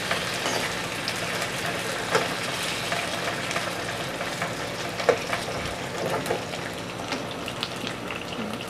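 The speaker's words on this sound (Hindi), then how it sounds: "इन आलूओं को हमने तकरीबन 5 मिनट ऑयल में अच्छी तरह फ्राई कर लेना है।" Potatoes frying in oil in a pan, a steady dense sizzle and crackle throughout with faint occasional stirring taps, close and even in level, no one speaking.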